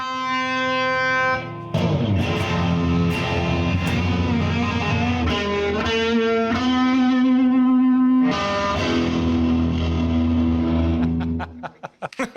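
An electric guitar cranks loud through an amplifier with distortion and effects. Chords and riffs ring out over about twelve seconds, thick and driven, and end in a few ragged strums.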